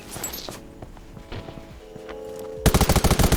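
Rapid automatic gunfire in the video game Undawn bursts in loud and close near the end, a fast string of sharp shots after quieter scattered clicks, thuds and faint game sounds.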